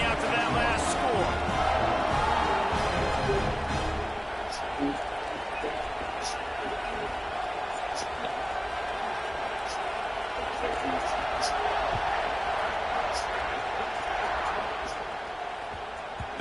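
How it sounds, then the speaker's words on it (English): Stadium crowd in College Football 26, a dense, steady roar of distant cheering filling the background under continuous commentary, with a few brief thuds rising above it. "this crowd is buzzing after that last score"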